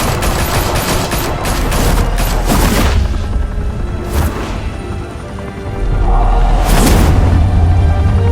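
Gunfire erupts in the Batman Telltale Series video game, loud rapid bursts of automatic shots and booms with brief lulls between volleys.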